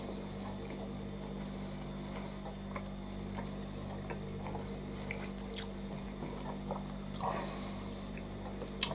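Someone bites into and chews a Korean style cheeseburger, soft wet squishes and faint chewing sounds against a quiet room hum, with a slightly louder bite near the end.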